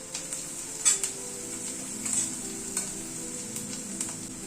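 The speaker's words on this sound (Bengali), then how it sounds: "পেঁয়াজ কুচিটাকে এই মিনিট 2 মতো একটুখানি ভেজে নিলাম" Chopped onion frying in oil with turmeric, a soft steady sizzle with occasional stirring scrapes and taps of a utensil in the pan, fairly faint and close, no talking.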